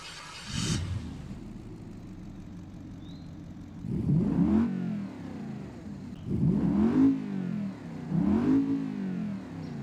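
A 1993 Procyon Avior 4.0-litre V8 engine revs hard three times, each burst rising and falling over a steady idle rumble, loud and close.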